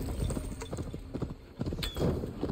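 Horse hooves clip-clopping while riding in the video game Assassin's Creed Valhalla, a quick steady galloping rhythm, close and moderately loud, with faint game ambience.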